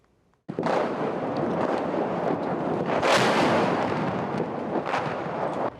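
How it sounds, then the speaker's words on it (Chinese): Loud, continuous rumbling bursts of heavy Russian artillery fire in the Bakhmut area of Donetsk, Ukraine, booming steadily without a break, with a sharper blast partway through and another near the end. "镜头一直海会用听到大炮的声音，伫现场一直发生。"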